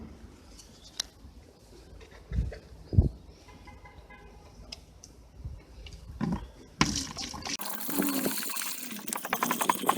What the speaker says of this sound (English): let's go ahead and add this water and we will see if it's going to work or not.